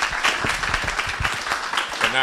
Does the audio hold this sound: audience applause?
yes